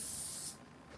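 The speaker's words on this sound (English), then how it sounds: "Right now I'm spraying spray glue though" A short, quiet hiss of spray glue from a can, stopping after about half a second.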